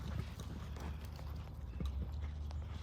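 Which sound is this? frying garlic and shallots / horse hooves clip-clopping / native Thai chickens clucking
horse hooves clip-clopping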